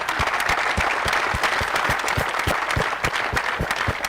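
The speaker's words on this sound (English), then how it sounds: "so big round of applause to them" A tennis crowd at the Mumbai Open WTA 125 tournament applauds steadily, with distinct claps standing out over a dense wash of clapping.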